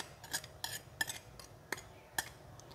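A utensil stirs shredded carrot into a soft bánh phu thê (xu xê) dough in a bowl, giving quiet, irregular clinks and scrapes against the dish, about eight light taps spread over a few seconds.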